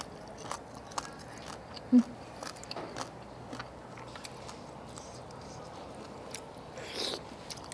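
Crunchy spicy clam salad with roots is chewed close to the microphone, faint crisp bites and soft chewing with a louder bite early on, alongside a little quiet speech.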